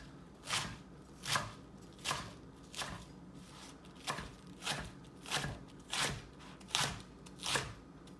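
A knife slicing radicchio into ribbons on a cutting board, about ten crisp, evenly spaced crunching cuts in a steady rhythm, close and fairly quiet with no talking.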